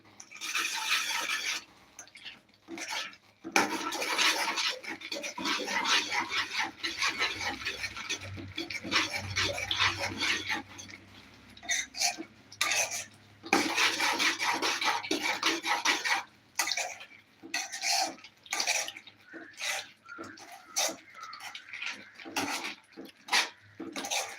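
A spoon scrapes and clatters in a pot of crushed cardamom, jaggery and grated coconut, with repeated gritty strokes and knocks against the metal that start and stop in bursts. No one speaks.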